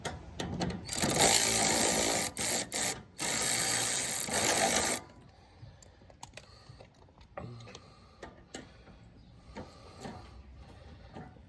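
A ratchet wrench loosens a 9/16 nut on the steering arm of a Craftsman lawn tractor, giving several seconds of loud, rapid clicking in short bursts with brief pauses, then quieter scattered taps and handling noises.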